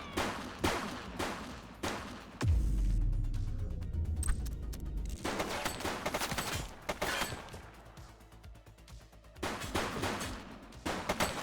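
Rapid gunfire bursts in the police game The Precinct: repeated sharp shots and volleys, loud and close, with a heavy boom and rumbling impact midway, then more scattered shots.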